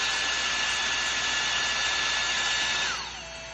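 Pink ceramic rose gold Dyson Airstrait hair straightener running with a loud, steady high-pitched airflow whine that drops in pitch and winds down near the end, with no voices.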